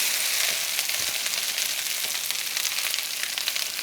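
Corn kernels frying in browned butter in a smoking-hot pan, a steady loud hiss and crackle of sizzling fat that holds evenly throughout, close up and without speech.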